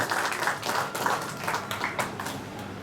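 An audience at a film festival award ceremony claps in scattered, uneven bursts, moderately loud and a little distant, with no voices over it.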